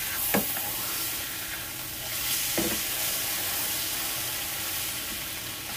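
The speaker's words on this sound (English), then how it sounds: "We're gonna cook these burgers well done" Burger patties sizzle on a griddle, cooked well done for an In-N-Out style Flying Dutchman burger, giving a steady frying hiss with a couple of brief scraping sounds, fairly close and with no talk.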